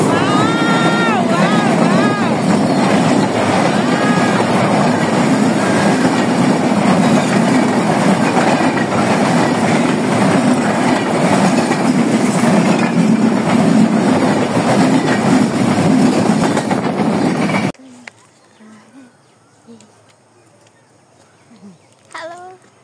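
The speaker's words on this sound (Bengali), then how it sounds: "অলরেডি ট্রেন আসছে।" A train pulls into a station, its loud rumbling and clickety-clack of wagons rolling by close for most of the stretch before cutting away to quieter surroundings.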